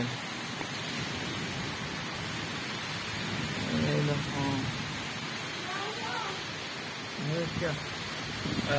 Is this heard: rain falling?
yes